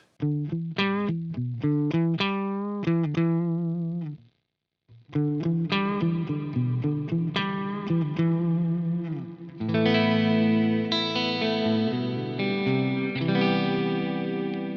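Electric guitar through a Boss Super Chorus pedal with no reverb, giving a shimmering, dry chorus: a run of plucked single notes, a brief pause, then sustained strummed chords ringing out loudly.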